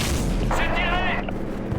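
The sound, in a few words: cannon firing at a target in Modern Warfare video game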